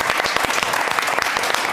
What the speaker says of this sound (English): Round of applause for these players.